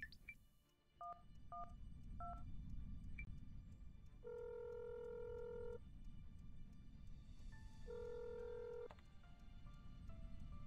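Short DTMF keypad beeps and dialing tones from a phone call placed during a driving accident video game, heard over a steady low engine and road rumble, with a few separate tone bursts spread across the stretch.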